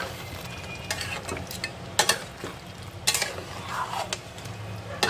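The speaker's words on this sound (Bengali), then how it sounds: "এবার ভালো করে উপর নিচ করে কিন্তু আমি একটু মিশিয়ে নেব, যাতে মশলার সাথে মাটনটা ভালোভাবে মিশে যায়।" Mutton coated in spices is tossed with a spatula in a pan over a high flame, a close sizzle broken by sharp scrapes and clanks of the metal against the pan.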